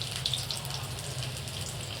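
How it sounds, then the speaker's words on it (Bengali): Soya bean muitha fry in hot oil with a continuous crackling sizzle, steady and close. "সুন্দরভাবে ভাজা হয়ে যাচ্ছে।"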